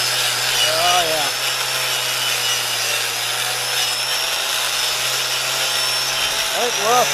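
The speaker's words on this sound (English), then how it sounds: "calls this the DeWalt flywheel resurfacer" A DeWalt power tool grinds against a flywheel being resurfaced, a loud, steady abrasive rasp running throughout with brief rising whines near the start and end.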